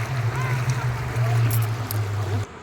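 Strong river current rushing over a flooded bridge and around the pipes set beneath it, a steady broad watery roar with a low rumble throughout, cut off abruptly near the end.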